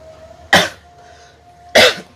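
Two sharp, dry coughs about a second apart, close to the microphone, with a faint steady hum in the background.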